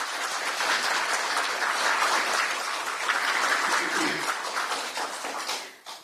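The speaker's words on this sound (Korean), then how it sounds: "김문수 후보님께 다시 한번 뜨거운 박수 부탁드립니다." Sustained audience applause at a political campaign rally in Gwangju, dense and steady clapping from a large crowd for about six seconds, tapering off at the very end.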